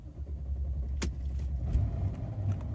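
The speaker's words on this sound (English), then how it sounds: "Now we can start the vehicle." A Mercedes-Benz GL/GLS Class SUV engine starts and settles into a steady low idle rumble, with a brief sharp click near the start, heard close and alone without any talk.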